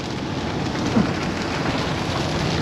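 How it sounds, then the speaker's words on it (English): Steady rain falls on a farm ahead of a storm, an even, dense hiss of drops on surfaces, close and continuous with one brief soft knock early on and no voices. "It hasn't really rained a bunch lately, but it just rains all the time."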